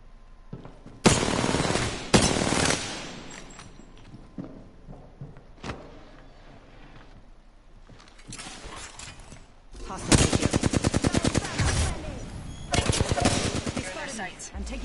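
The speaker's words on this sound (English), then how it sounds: "I'm taking shots" Bursts of video game gunfire in Apex Legends, loud and close, with a few single shots and long rapid automatic volleys, the densest near the end, over faint game ambience.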